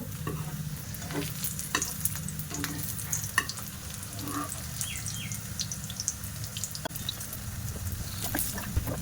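Continuous oily sizzling of a lachha paratha frying in a hot oiled pan, with scattered crackles and pops, no voices.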